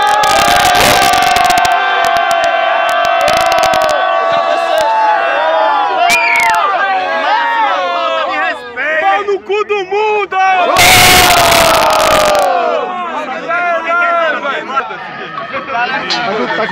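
A loud crowd at a Brazilian rap battle roars and cheers in bursts, with shouting voices in Portuguese and hubbub swelling around an energetic announcer-style voice.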